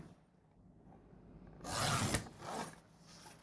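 A cutter trims a sheet of paper to size for a mini travelers notebook, giving one short, close rasping slide after a quiet pause, then a fainter second stroke.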